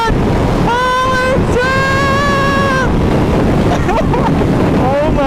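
A 2015 EBR 1190 SX motorcycle ridden fast: loud, steady wind roar buffets the microphone while an engine whine climbs and falls in pitch over several seconds.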